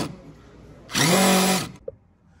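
A DeWalt driver whirs in a single loud burst of under a second while driving a screw, then stops and is followed by a faint click.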